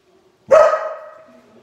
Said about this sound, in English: Sorry, that's our dog, Mika.